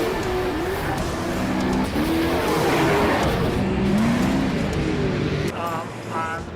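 Drifting car at a Saudi Arabian car show exhibition, engine roaring loudly and continuously with shifting revs and tire noise, crowd and background noise mixed in, ending in a quieter stretch.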